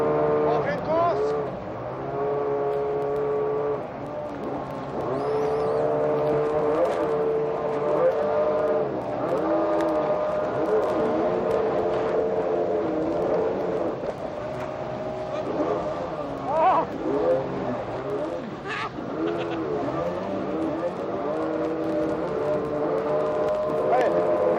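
Cars racing at Eurodisney give a sustained engine drone that rises and falls as they move, with people talking and calling out over the noise throughout.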